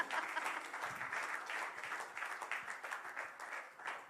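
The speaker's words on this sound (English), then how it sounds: "Let's applaud for ourselves." A small group claps steadily for a few seconds at an awards event, moderately loud and fairly close, with no voices over it.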